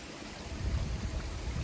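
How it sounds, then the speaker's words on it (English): Water from a creek runs over big boulders, making a steady, fairly close rushing burble that fills the short stretch without pause. "it's a creek with some big boulders, beautiful boulders"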